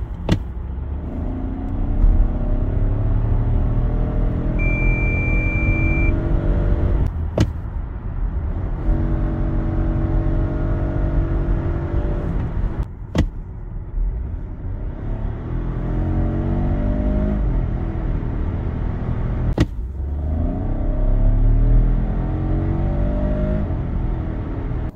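Volvo XC40 T5 Recharge 1.5 petrol hybrid accelerating in Power mode, engine rising through several gears with repeated climbing revs and brief dips at shifts, loud and continuous from inside the car.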